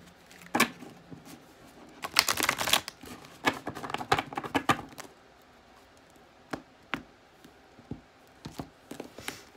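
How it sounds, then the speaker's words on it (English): Tarot cards are riffled and shuffled by hand, bursts of papery flutter and sharp taps up close, busiest early on and then thinning to scattered light clicks. "one more shuffle"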